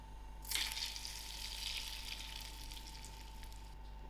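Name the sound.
hot mustard seed tempering sizzling into brinjal choka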